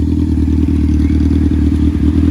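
A Honda CBR F4i 600cc sport motorcycle drones loudly and steadily at close range with a constant low engine hum and some rattling clatter, no clear revving change.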